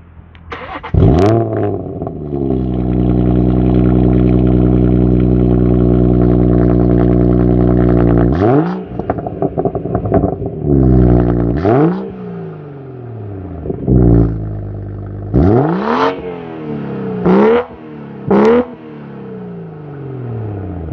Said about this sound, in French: maintenant on veut bien écouter le son moteur